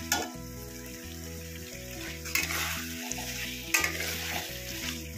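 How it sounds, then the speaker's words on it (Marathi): Chicken fries in oil with masala, a steady sizzle that runs throughout, broken by a few stirring scrapes, with background music underneath. "तेलामध्ये चिकनला मस्त भाजायचं मसाल्यामध्ये"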